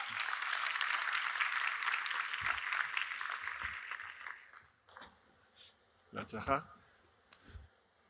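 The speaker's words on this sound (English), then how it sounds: "Please welcome him to the stage with a big round of applause." A conference audience at a cyber defense main plenary applauds a military general as he walks on stage; dense clapping fills the first half and then fades, giving way to scattered sounds and a voice.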